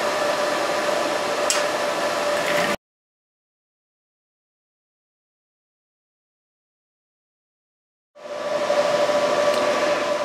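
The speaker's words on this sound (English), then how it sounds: "We'll get initial shaping of the beak using a grinder." Grinder shaping the beak of a stainless steel spoon bird sculpture, a steady loud whirring hiss that runs, cuts to silence for several seconds, then starts up again.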